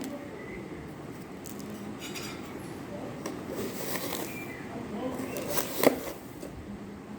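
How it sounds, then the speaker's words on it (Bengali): A spoon stirs sugar into freshly pressed pomegranate juice with salt and black salt, making soft scraping and light clinks against the glass and one sharper clink near the end, under someone speaking. "তো আমি চিনি মিলাচ্ছি"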